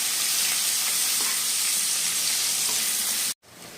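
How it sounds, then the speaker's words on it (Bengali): Two medium chopped onions fry in a pan for a Bengali-style chicken dak bungalow, giving a steady, loud, close sizzle that continues without pause and briefly cuts out near the end. "পেঁয়াজটা আমরা এখানে ভালো মতো ভেজে নেব"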